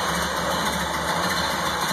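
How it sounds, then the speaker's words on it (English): A 1929 Model A Tudor sedan engine idles steadily and close, a continuous even running hum with no talk over it. "Give you a shot of the engine here. See, running just fine."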